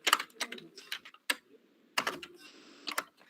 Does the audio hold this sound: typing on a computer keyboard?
yes